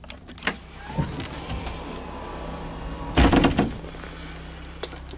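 Electric door mechanism on a Mercedes-Benz 614D 24-seater bus opening at the press of a button, with a clunk, a short motor whir and a solid thump midway, fairly close in a quiet interior.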